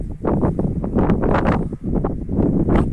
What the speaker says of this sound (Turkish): Arkadaşlar biraz rüzgar var.